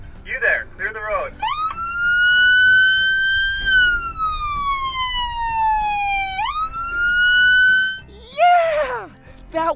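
A police car's loudspeaker and siren: a loud, close siren sweeps up and down in long rising and falling wails, with amplified voice bursts just before and after.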